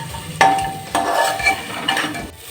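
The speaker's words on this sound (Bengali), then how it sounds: "এটাকে দিয়েও চিকেনটাকে ভেজে নেব যতক্ষণ না রঙটা চেঞ্জ হয়" Chicken fried with chopped onion, ginger and garlic in a pan: a soft sizzle broken by a few clanks and scrapes of a spatula against the pan, close by with no talking.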